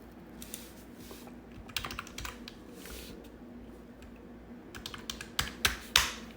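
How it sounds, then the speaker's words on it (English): Typing on a computer keyboard in bursts of quick clicks and keystrokes, sparse at first and then denser, with a few sharper, louder taps near the end, close and clear with no voices. "I didn't type it in right"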